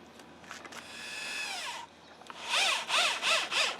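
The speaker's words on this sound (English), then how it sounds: "as I drill the holes for the long wood screws" A power drill whines as its pitch climbs and drops, then several rhythmic, rasping bursts follow as it drills holes in pressure-treated wood for long wood screws, close and moderately loud.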